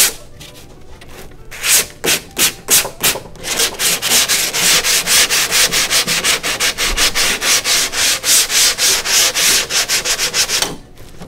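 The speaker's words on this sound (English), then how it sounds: "if you happen to have overlaid a countertop and you've got some rough edges like this, this will also sand out very easy" Rough edges of an overlaid concrete countertop being sanded, producing loud, steady back-and-forth scraping strokes in a fast repeating rhythm for most of the span, close up with no talking.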